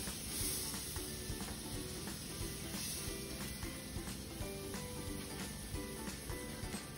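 Bread frying in butter in a frying pan, a steady close sizzle with small crackles and the scrape of stirring running throughout, no talking.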